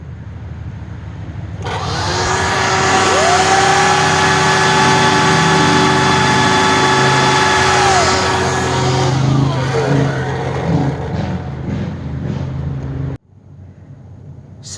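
A Black & Decker leaf blower runs with both extension tubes removed, leaving a round output hole, and kicks on into a loud, steady high whine and rushing roar held for about ten seconds. It then winds down and cuts off abruptly.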